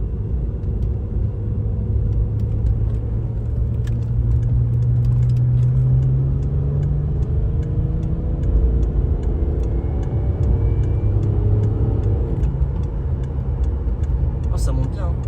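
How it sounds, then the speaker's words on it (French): A diesel Peugeot 407 coupé accelerating, heard from inside, with a loud, steady engine rumble whose pitch climbs through the gears over light ticking, and no clear talk. "On accélère un coup."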